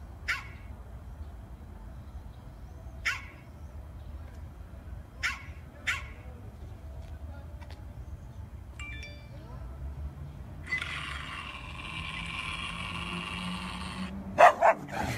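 A dog in Russia gives a few short, sharp barks spaced several seconds apart. They sound moderately distant over a quiet outdoor background, followed by a brief burst of hissy noise and a couple of louder knocks at the end.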